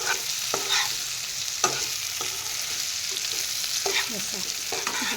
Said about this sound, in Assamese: ফ্ৰাই কৰি লোৱা বেঙেনাখিনি দি লওঁ দি নিজৰে তল ওপৰ কৰি এফালৰ পৰা লৰাই লৰাই যাম